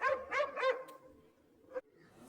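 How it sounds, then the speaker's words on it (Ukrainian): A dog barks three times in quick succession, then gives a fainter single yip after a short pause. "собака з цуценятами"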